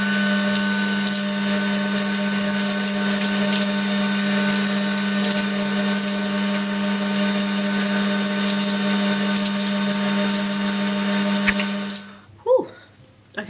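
Running water splashed over the face during a waterproof eyeliner test, a loud steady tap-like rush with a strong hum under it that stops abruptly near the end, followed by a few brief drips and movements.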